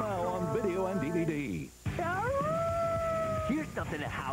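A wolf-like howl in a TV commercial, long rising and falling tonal cries, close and fairly loud, with voices and other sound-effect tones around it.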